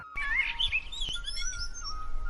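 A cartoon parrot chirps and trills in bright rising and falling whistles, close and clear over a faint low hum, with no talking.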